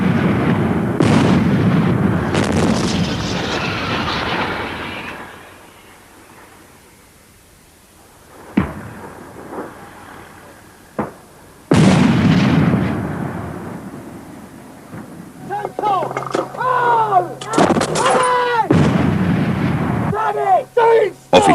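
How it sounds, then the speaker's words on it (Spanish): A tank's 105 mm cannon fires in heavy booming blasts, two loud bursts of rumbling detonation separated by quieter gaps, with voices talking amid the roar near the end. "Cuando disparas este cañón de 105 milímetros"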